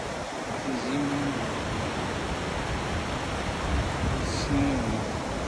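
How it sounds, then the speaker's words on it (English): Steady broadband roar of Taughannock Falls in winter, a distant waterfall plunging into a snowy, foggy gorge, continuous and even throughout, with faint brief vocal sounds briefly rising above it. "And here's the waterfall."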